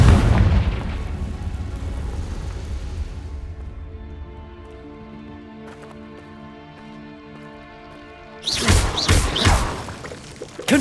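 Confringo blasting spells explode in Hogwarts Legacy: a heavy boom rolls off and fades over a few seconds, and a second sharp, loud burst erupts near the end over game music.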